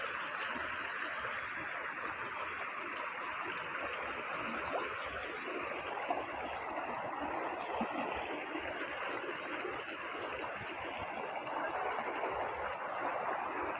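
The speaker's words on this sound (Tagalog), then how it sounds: "Nasa tuktok kami ng falls." Steady, dense rush of a waterfall stream in Suyo, Ilocos Sur, heard from the top of the falls, a loud unbroken roar of flowing water with no voices.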